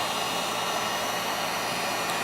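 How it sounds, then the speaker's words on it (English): A heat gun blows steadily on strain relief over Anderson Power Pole connectors, giving a continuous broadband hiss and whir that holds even and close for the whole stretch, with no talking. "Now we're going to hit this with a heat gun"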